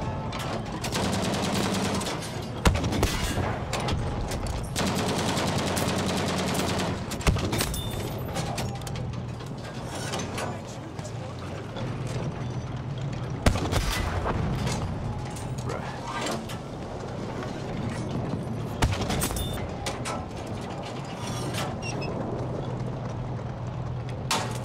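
Battlefield 5 tank combat with sustained gunfire and several sharp, loud cannon blasts at intervals over a constant rumbling din, with occasional voices.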